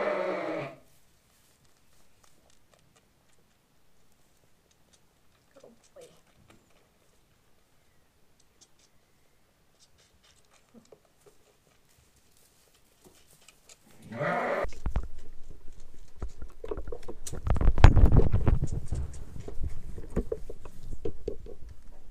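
A hair sheep bleats loudly at the start, then near silence, then another bleat followed by shuffling, rustling and scuffling noises close by.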